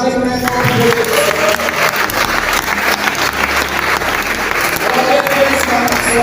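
A church congregation bursts into sustained applause mixed with cheers and shouts, dense and loud throughout, with music and voices underneath.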